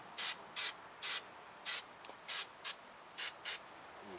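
Aerosol brake cleaner sprayed onto the front brake hub of a 2014 Ford F-150, eight short even hissing bursts in a steady rhythm, close and loud with quiet gaps between.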